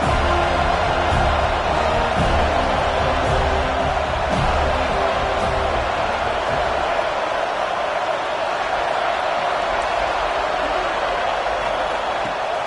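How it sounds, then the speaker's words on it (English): Steady, loud crowd roar fills an American football game for the whole stretch, a broad constant din with a few faint low thumps early on and no distinct speech. "Man, this crowd really affecting the football game."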